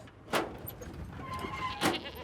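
Goats bleat in a crowded livestock pen holding around 120 animals, two distinct loud bleats about a second and a half apart over low background noise from the herd.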